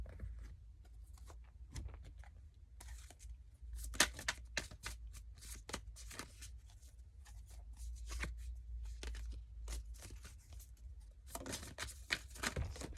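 Tarot cards are shuffled by hand in a quiet room, producing repeated soft riffling bursts and flicks that come in uneven clusters, close and fairly faint, with no one speaking.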